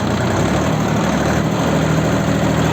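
A turbocharged car engine running loud and close in second gear, a rough steady drone with a slight rise in revs.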